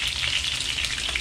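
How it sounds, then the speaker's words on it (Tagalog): Steady, close sizzle of food frying in hot oil until golden brown, for a Kapampangan binagoongan begukan dish, loud and continuous with no talk. "Ipiprito lang natin ito ng golden brown."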